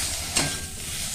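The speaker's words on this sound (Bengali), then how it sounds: "ভালো করে নাড়াচাড়া করে আমি এটা ভেজে নেব।" Chopped whole tomato and spices stirred while frying in a pan, a soft continuous sizzle broken by one quick scraping stir, close and fairly quiet, with no talking.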